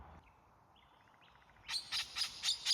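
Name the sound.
parrots calling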